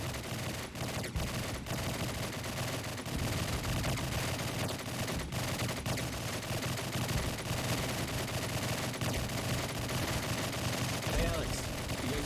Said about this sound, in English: Sounds like someone's at the shooting range.